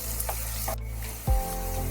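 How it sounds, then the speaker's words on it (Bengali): Onions frying in oil with a little sugar, a close, steady sizzle with a few stirring scrapes and a low thump partway through, no voices. "পেঁয়াজ ভাজার মধ্যে দিয়ে দিচ্ছি একেবারে অল্প পরিমাণে একটু চিনি"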